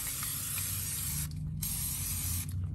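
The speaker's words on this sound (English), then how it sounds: "I'm gonna spray it with fluid film" An aerosol can of Fluid Film rust-prevention fluid sprays in long, loud hissing bursts up close onto a 2003 Toyota Tacoma's front bumper, with two brief pauses between sprays.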